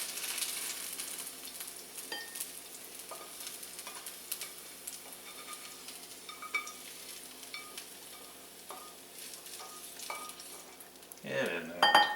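Egg foo yung sizzling steadily as it fries in oil in a pan, with light stirring and scraping throughout and a louder clatter of the pan near the end.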